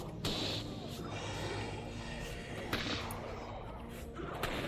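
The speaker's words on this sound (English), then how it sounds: "those explosions do hurt" Explosions go off in the video game Guild Wars Reforged as sharp bursts and thuds, a couple of distinct blasts over a steady low game hum, at moderate level.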